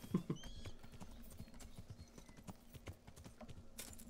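Rhythmic clip-clop of horse hooves at a steady trot in the video game Kingdom Come: Deliverance, fairly close, over a low ambient background with a brief bright burst near the end.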